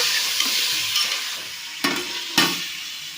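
Onions, green chillies and tomatoes fry for a fish curry, giving a steady hiss with soft stirring and two sharp clangs of a utensil against the pan.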